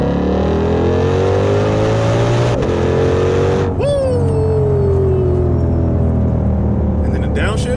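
A 2020 Ford Shelby GT500 accelerates hard with a loud rising engine roar, then downshifts with sharp rev blips and a falling pitch, heard close from inside the car.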